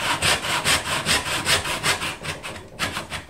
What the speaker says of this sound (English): this saw here that you're watching is almost 200 years old